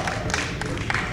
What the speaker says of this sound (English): Everyone give Josh Davis a round of applause